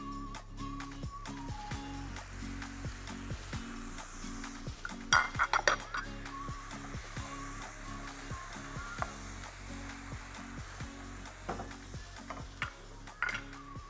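Tomato is stirred in a pan with paprika for stuffed tomatoes with bulgur, feta and kefalotyri; a spoon clinks and scrapes rhythmically against the cookware, fairly faint and close, over a low background hum.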